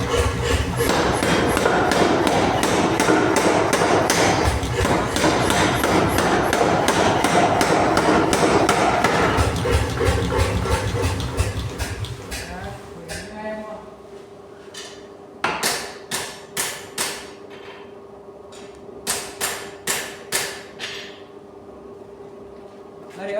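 A power hammer forging hot metal for fireplace tool set parts pounds rapidly and heavily for several seconds, then slows to scattered separate blows with a ringing metallic tone between them.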